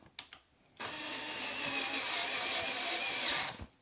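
A small electric screwdriver backs out a small screw without a flexible extension: a steady, fairly quiet motor whine runs for about three seconds after a couple of brief clicks, with no talk.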